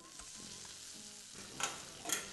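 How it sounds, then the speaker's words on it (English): Half an onion frying in a little olive oil in a fresh pot, a soft steady sizzle with two brief louder stirring scrapes near the end. "These have to be fried until the onion has changed its color and it's soft."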